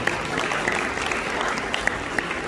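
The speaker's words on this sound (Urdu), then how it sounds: "میں چاہتا ہوں ایک دفعہ بھرپور تالیاں ہمارے والنٹیئرز کے لیے بجائیے" Sustained applause fills the room for the volunteers at a charity fundraising dinner in a London banquet hall, dense and steady throughout with no pauses.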